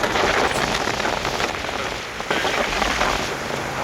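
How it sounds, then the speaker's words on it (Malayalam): Loud, steady heavy rain pours down continuously, a dense hiss of drops hitting surfaces close by. "ശരിക്കും കിടുക്കം മഴയാണ്"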